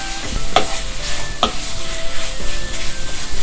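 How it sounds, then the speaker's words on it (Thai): Pork belly pieces stir-fried with curry paste in a pan, a steady sizzle broken by a few sharp scrapes and stirs of the spatula, close and fairly loud with no voices. "แล้วก็ผัดหมูกับเครื่องแกงให้เข้ากันเลย"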